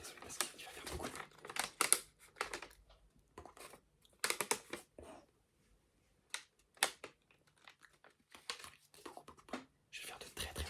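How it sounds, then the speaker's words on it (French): A paper Lego bag crinkles close to the microphone in irregular bursts of crisp rustling, separated by brief silences and soft handling noise. "C'est un sachet de Lego, genre les nouveaux en papier."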